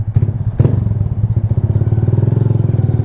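A Honda Grom motorcycle engine idles close by with a steady, rapid thumping pulse, a couple of sharp blips of revving near the start before it settles into an even putter.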